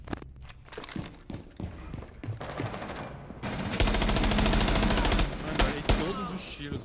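Gunfire in the video game Rainbow Six Siege: scattered single shots, then a sustained burst of rapid automatic fire, then a few more sharp reports, moderately loud and with no speech.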